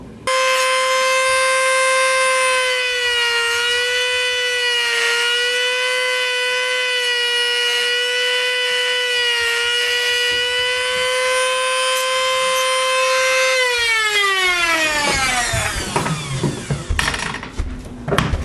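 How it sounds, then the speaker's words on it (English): High-pitched whine from a power sander smoothing dried Gorilla Glue overflow on a handmade wooden crankbait lure. It holds steady for a long stretch, then winds down in pitch and ends with a few rough scraping bursts. "There's a little bit of overflow from the Gorilla Glue, so I'm just going to sand that down."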